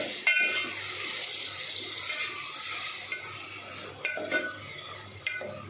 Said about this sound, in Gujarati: હવે આપણે તેમાં ટમેટાં ઉમેરી દઈશું। બરાબર મિક્સ કરી લઈશું।